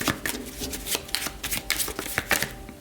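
Tarot cards being shuffled by hand, a close run of crisp riffling flutters and soft slaps repeating in quick bursts.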